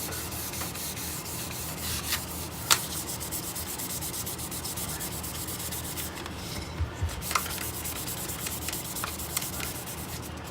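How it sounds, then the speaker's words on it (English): Wood end grain being hand sanded, a continuous close rubbing and scratching with repeated back-and-forth strokes and a few small knocks, steady and moderately quiet, with no speech. "Once you hit 600, that really shows where you need to go back and do some more sanding."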